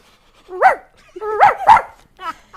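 A person imitates a dog barking during an intramural basketball game, giving three loud, close bark-like yelps with a brief fourth one trailing off at the end.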